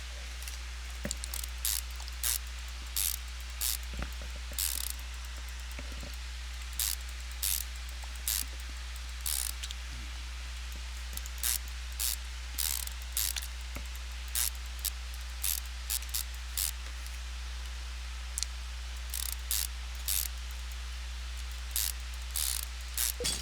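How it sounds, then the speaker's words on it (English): Ratchet wrench tightening bolts in the Car Mechanic Simulator 2015 video game, heard as repeated quiet bursts of rapid clicking strokes with short gaps between, over a steady low hum and no voices. "We're gonna crank these bolts the way down."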